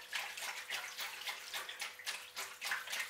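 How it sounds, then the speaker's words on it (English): Water sloshes softly as an orchid is rinsed in a bowl to loosen peat moss, giving gentle rhythmic splashing strokes, quiet and close, with no talking. "rinsing this in the bowl here, just to see if I can release some more of this peat moss"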